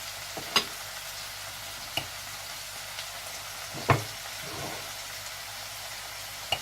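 Onions fry in a pan for an egg curry, a soft continuous sizzle with a few sharp clicks and taps at intervals, heard close and fairly quiet.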